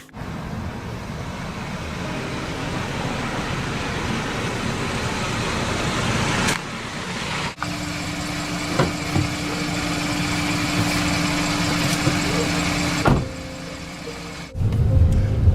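A car interior with an Uber driver and passenger riding along, a steady engine and road hum running throughout, with a couple of abrupt shifts in the drone and a low idling tone partway through.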